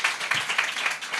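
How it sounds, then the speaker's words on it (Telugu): A church congregation claps together in praise during a sermon, producing a quick, steady, rhythmic patter of many hands at moderate volume. "చప్పట్లు కొట్టి దేవునికి వందనాలు చెల్లిద్దాం"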